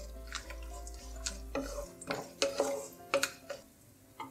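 Biryani masala with garam masala and pistachios stirred in a cooking pot, a few soft clinks and scraping knocks of a spoon against metal in an uneven rhythm, fairly quiet and close with no talking.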